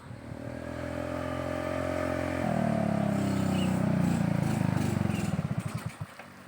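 Small motorcycle engine idling and then revving up with a rising, throbbing drone, close by, ending in a sputtering, chugging slowdown before cutting off.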